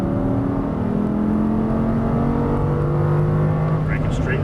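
An Audi R8 accelerating hard on a race track, its engine roaring loud and close with rising pitch as it pulls through the gears, a continuous drone throughout.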